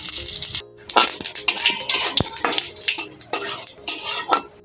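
Whole white cumin seeds with bay leaf and dried red chillies crackling in hot mustard oil, a loud, dense sizzle with sharp pops and spoon clatter close by, no talking.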